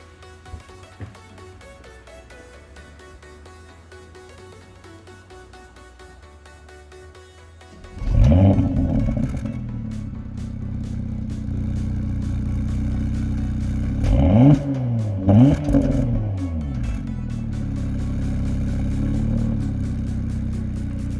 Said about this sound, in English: let's take a listen to the engine